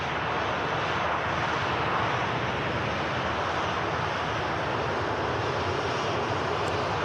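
An EasyJet airliner arriving from Paris touches down at Manchester Airport, its steady, loud engine roar broad and continuous throughout, with a touch of wind noise and no talk.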